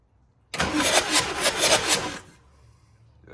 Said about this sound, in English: now we're going to basically fire the truck over